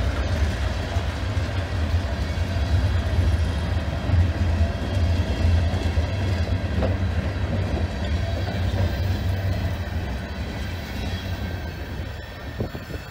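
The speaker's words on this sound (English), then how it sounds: "Wasn't even expecting to see that train." A freight train rumbles steadily past on snow-covered tracks, a deep continuous roar with faint rail clatter, staying loud throughout before easing slightly toward the end.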